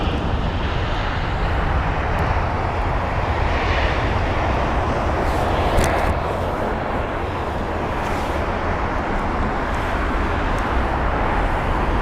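An Air France Airbus A320, brand new, lands at London Heathrow with a continuous broad roar of jet engines and rushing air, loud and steady throughout, with no voices.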